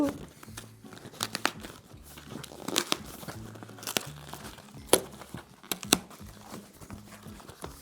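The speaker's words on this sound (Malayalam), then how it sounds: "നമുക്ക് ഇതിൽ നിന്ന് ആദ്യം തന്നെ അൺബോക്സ് ചെയ്ത് തുടങ്ങാം" A small package is unboxed, with the plastic and paper packaging crinkling and tearing in scattered, close, fairly quiet bursts.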